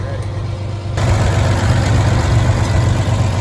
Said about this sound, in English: This IHC 6-cylinder engine is a really good motor.